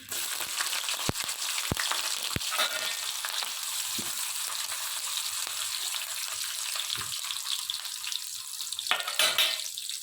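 Chopped onion frying in hot oil with cumin and mustard seeds for upma, a close, continuous sizzle with a few sharp clinks and stirring scrapes.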